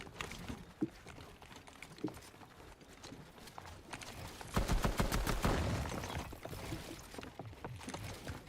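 Gunfire in Fortnite during a duos cup match: scattered single shots early on, then a dense, loud burst of rapid fire in the middle that tapers into a few more scattered shots.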